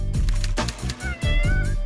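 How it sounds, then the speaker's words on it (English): A pet cat meows several times in quick succession, close and loud, with strained, drawn-out rising and falling cries in a domestic setting. "I've got a dog called Daisy and a cat called Jasper."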